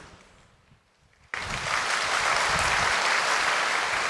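An audience bursts into clapping at a spiritual talk, starting abruptly after a quiet moment and swelling into loud, sustained applause of many hands.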